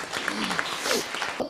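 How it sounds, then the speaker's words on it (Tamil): An audience applauds a dancer at a salangai pooja ceremony in a brief burst of dense, steady clapping. "சுதிக்ஷாக்கு உண்மையிலே ஒரு பெரிய கைத்தட்டல்கள் எல்லாருமே கொடுப்போம்"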